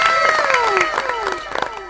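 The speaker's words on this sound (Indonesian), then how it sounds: "Tepuk tangan dulu semuanya." A student audience claps and cheers to welcome guest university students at a casual campus event, with shouting and whooping voices over the clapping, lively and close throughout.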